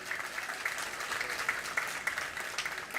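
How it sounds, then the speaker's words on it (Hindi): Audience applause at a Jain monk's Mangal Pravachan religious discourse gathering, a steady wash of many hands clapping throughout, moderately loud with scattered sharper claps. "आ रही है तो जोर से तो ताली बजाओ"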